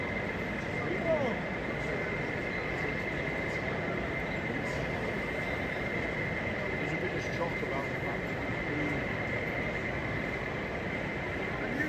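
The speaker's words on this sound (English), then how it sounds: "A Class 47 on a rake of vans passes by on the main lines" A model railway Class 47 locomotive hauling a rake of vans runs past on the main lines of an exhibition layout, a steady continuous rumble amid hall background noise.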